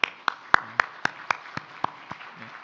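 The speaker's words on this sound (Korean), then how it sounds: "비록 예배 시간이지만 박수 한번 칩시다." Scattered applause from a church congregation during a Sunday worship service, about ten separate sharp claps spaced roughly evenly, fairly faint and sparse rather than a full ovation.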